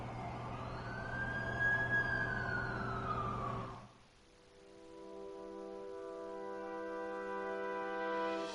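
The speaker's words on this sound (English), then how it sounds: "That's the ambulance I called." Ambulance siren wailing in an animated show, a loud rising and falling tone that cuts off abruptly, followed by a sustained, layered musical tone.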